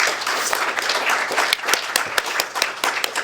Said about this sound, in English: I want to give a round of applause for all the co-authors.